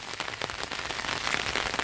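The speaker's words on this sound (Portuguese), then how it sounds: "Gente, muita chuva" Heavy rain pours over a garden in northeastern Brazil, a dense, close, continuous hiss of drops striking leaves and ground, steady throughout with no voices.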